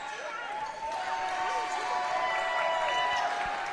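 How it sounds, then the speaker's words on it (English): Oilers students applaud in a school gym during a Mt. Pleasant vs. Lapeer varsity basketball game, a steady wash of crowd noise and clapping, fairly distant, with a commentator speaking over it. "applause from the Oilers students."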